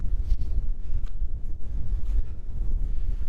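Strong cold wind gusting across an exposed winter hilltop at about minus three degrees, a loud, steady low roar with buffeting bursts close on the microphone, no voices.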